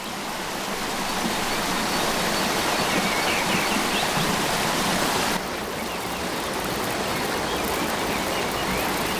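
Waterfall, a loud, dense, continuous rushing roar of falling water that stays steady the whole time with no other sounds.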